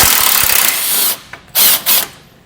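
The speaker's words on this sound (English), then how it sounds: "We're going to use a 13mm socket to remove the nuts that hold the module bracket on here" Nuts on a module bracket being removed with a 13mm socket on a 2011 Jeep Patriot's frame: a continuous power-tool whir for about a second, then two short, loud bursts of spinning after a brief pause.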